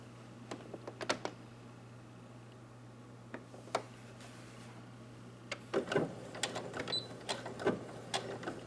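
Home sewing machine stitching along the inner edge of a pleated fabric face mask to hold the hem, heard as faint, short bursts of mechanical whirring and clicking with pauses between runs, close and quiet.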